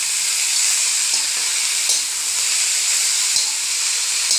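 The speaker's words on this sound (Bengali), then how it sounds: "এইবাৰ ভাজি ল'ম" Mushrooms and roselle leaves frying for a curry, a loud, dense, continuous sizzle with faint stirring knocks underneath, heard close with no talking.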